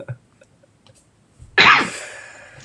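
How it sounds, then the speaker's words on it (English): A single sharp, close cough bursts out after a stretch of near silence and then trails off briefly. "It's not a Corona cough."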